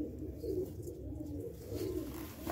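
Pigeons in a home breeding coop coo softly and continuously, a low, rolling murmur of several birds close by with no talk.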